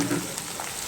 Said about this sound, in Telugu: ఇప్పుడు ఆనియన్స్ వేసుకుందాం.